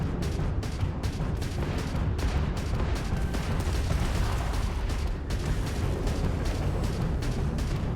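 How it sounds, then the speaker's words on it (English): A homing missile launching in the Starfield space game, a continuous loud roaring rumble of ship combat and thrust with rapid crackling bursts layered throughout. "Launch the missile!"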